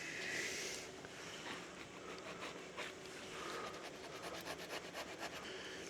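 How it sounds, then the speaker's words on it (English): Quiet, steady abrasive rubbing of sandpaper working back and forth on a metal burr on a 2006 Arctic Cat 400 engine part, close up with no talking. "I'm just gonna sand this little burr off of here now."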